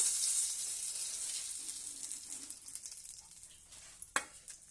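Mustard seeds, curry leaves and a dried red chilli crackling in hot oil, a close hiss of sizzling that slowly fades, with scattered sharp pops toward the end.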